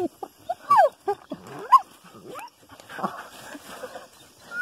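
Two dogs whimper and whine in short, rising squeals, interspersed with snuffling sniffs, nearby over a quiet outdoor background.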